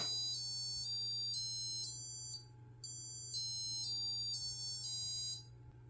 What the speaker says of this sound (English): I'll show you how to add sound to your Arduino projects using a buzzer